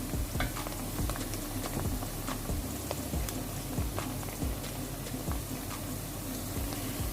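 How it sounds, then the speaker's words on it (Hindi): Onions frying in a pan while being stirred for an egg mattar curry, a steady soft crackling sizzle with repeated scraping and clicking from the spoon, close and without talk. "ये देखें प्याज हल्का सा ब्राउन होना स्टार्ट हो चुका है, लेकिन अभी हम इसको मज़ीद 2 मिनट और भूनेंगे"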